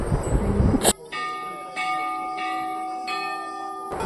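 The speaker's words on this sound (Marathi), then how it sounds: "तर मी पण इथे घंटी बांधतोय." A temple bell rings out with a sharp metallic strike followed by a long sustained ringing tone, struck again a few times as it decays, loud and close.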